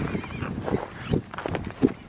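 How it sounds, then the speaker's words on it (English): A horse moves about in snow, giving a short whinny among soft shuffling and stamping sounds close by, with a person speaking nearby. "Look at this silly horsey over here."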